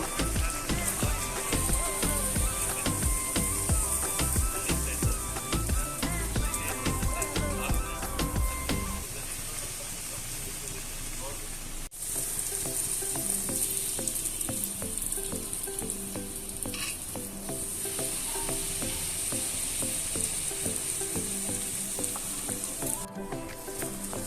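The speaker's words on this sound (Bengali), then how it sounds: "এবার আমি একে একে এই তেলে লুচিগুলো ছেড়ে দিয়ে ভেজে নেব" Luchi, small rounds of flatbread dough, deep-frying in hot oil for a vegetarian meal, with a steady close sizzle and bubbling crackle that runs unbroken through the whole stretch.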